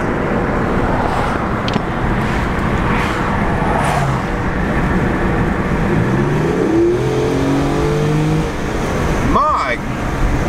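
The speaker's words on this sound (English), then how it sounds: "Let's go ahead and give it a little gas here in just a minute." Infiniti G35 X car engine accelerating, a steady loud drone with rising pitch sweeps in the second half, heard from inside with a brief voice near the end.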